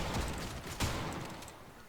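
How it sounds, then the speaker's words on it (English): Shotgun fire in the G.I.T.S.: First Assault video game, a single loud blast standing out near the middle of a dense, continuous wash of game gunfire and noise. "Alright, maybe the shotgun isn't that great. Got a slow ass rate of fire, that's for sure."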